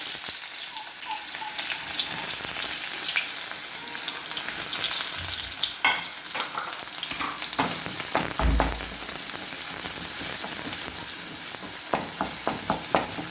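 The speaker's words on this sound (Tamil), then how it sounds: "உள்ளி கொஞ்சம் நல்லா வதங்கட்டு கொஞ்சம் கோல்டன் கலரில் வரும், அது வரை வெயிட் பண்ணுவோம்." Chopped garlic and shallots frying in hot oil for a Tamil dried-fish curry, a steady close sizzle with bubbling crackle and occasional stirring clinks, no voices.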